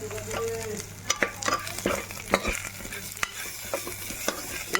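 A spoon stirs masoor dal seasoned with salt and turmeric in a pot, giving repeated scraping clinks and soft sloshing over a low steady hum, close and moderately loud.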